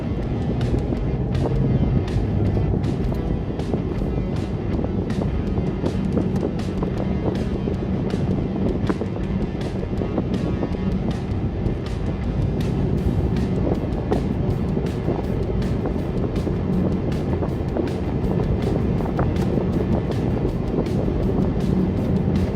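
A car on Kinforest KF550 ultra-high-performance tires drives steadily at speed, with continuous low road and tire rumble, wind buffeting and small repeated bumps heard from inside the cabin.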